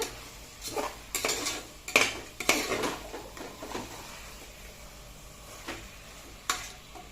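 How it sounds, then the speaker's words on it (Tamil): Chicken pieces being mixed in a cooking pot for biryani, with repeated metal clanks and scrapes of a utensil against the pot, loud and close, irregular strikes spread over several seconds with a faint background hiss. "சிக்கனை போட்டு நல்லா மிக்ஸ் பண்ணி விட்டுட்டு"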